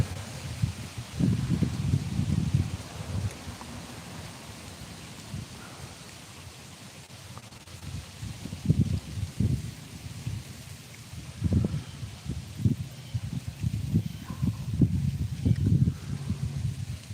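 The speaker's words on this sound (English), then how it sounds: "that damn wind is just getting rough out here" Strong wind blows roughly outdoors, a broad low rumble that surges in gusts and buffets, easing briefly before picking up again.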